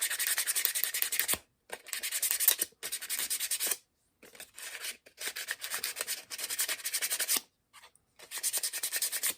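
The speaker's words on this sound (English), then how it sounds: "if you do have a piece of sandpaper, It's a perfect time to rough it up" Sandpaper roughs up the glue side of a puppet pattern piece in quick bursts of dry, raspy rubbing, close and fairly soft, broken by short pauses.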